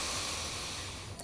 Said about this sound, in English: One more open mouth exhale